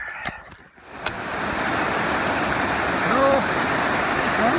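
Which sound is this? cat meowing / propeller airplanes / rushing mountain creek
rushing mountain creek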